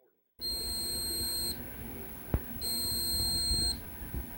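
A Sega Dreamcast VMU beeps when a move is learned in Shenmue, giving two long, steady, high-pitched electronic tones separated by a short gap, with a faint click between them.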